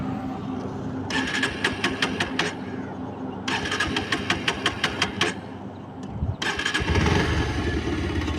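A Bajaj Pulsar 125 motorcycle engine cranks with repeated starter bursts, stalls between tries, then catches and settles into a close, steady idle; someone speaks over it.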